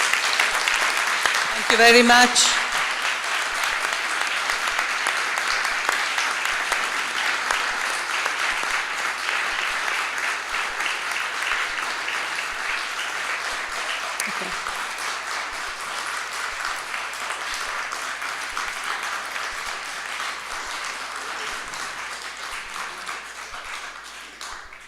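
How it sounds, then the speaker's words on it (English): Sustained audience applause at a health-rights conference, steady and full throughout, briefly under a speaker's short word of thanks near the start. "I believe that this applause represents the solidarity that comes to you from this audience."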